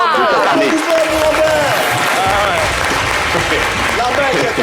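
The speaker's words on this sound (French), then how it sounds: "Applaudissements pour" Studio audience applause for a caller named Lambert on a French midday radio show, a steady dense wash of clapping filling the whole stretch, with music and voices running underneath.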